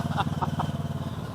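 A Raider 150 motorcycle engine makes a short, close, throbbing burst with a fast pulsing beat, lasting just over a second.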